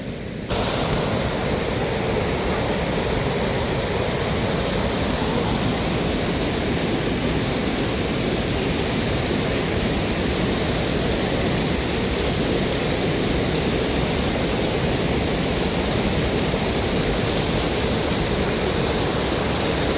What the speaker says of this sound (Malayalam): ചക്കുടിനെ പിടിച്ച് തോട്ടിലേക്ക് ഇട്ടാലോ